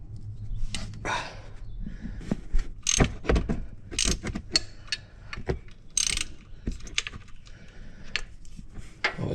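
A socket ratchet clicks in quick bursts while working on the tensioner pulley of an EcoBoost Explorer Sport engine, close and sharp, alternating with clanks and handling noises of tools.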